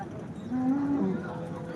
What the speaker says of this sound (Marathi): टॉपच्याच गाय आपण दाखवतो